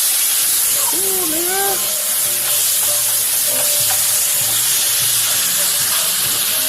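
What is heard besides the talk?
garlic sizzling and frying in a pan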